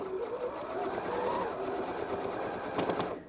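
A sewing machine stitches around the curved toe of a Christmas stocking, running as a steady, close mechanical whir for about three seconds with a slight rhythmic surge near the end.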